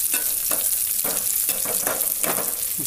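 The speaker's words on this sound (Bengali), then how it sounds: "এবারে ওর মধ্যে দিয়ে দেবো কাঁচা লঙ্কা কুচি, দিয়ে নাড়তে শুরু করে দিই" Chopped green chili fries with mustard seeds in a pan for poha, a loud continuous sizzle with regular scraping stirs about every half second, close up and with no voices.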